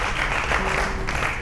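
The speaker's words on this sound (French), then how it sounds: "Merci d'accueillir et d'applaudir Frédéric de la brasserie Météor." A studio audience applauds a guest chef on a cooking show, a brief dense burst of many hands clapping together, bright and continuous from start to finish.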